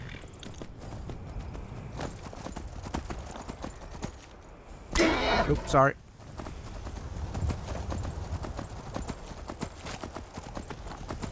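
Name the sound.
horse hooves clip-clopping in a video game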